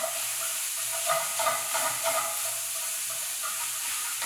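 Chorizo sausage fries in a pan while being broken into small bites, a steady close hiss of sizzling fat with faint scraping from the spatula, no voices.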